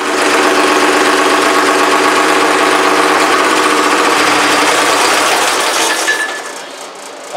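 A small shop engine runs loud and steady on WD-40 after its fuel system has been cleaned. The dense, even rattle holds for about six seconds, then drops away as it sputters out.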